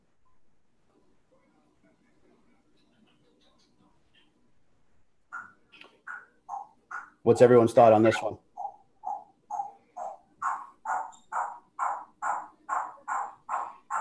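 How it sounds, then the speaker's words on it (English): African grey parrot running through its evening repertoire of noises indoors, a series of short chirps and whistles that build into a steady rhythmic run of repeated calls, with a person briefly speaking over them partway through. "It's my African gray bird that seems to go through her evening repertoire of noises."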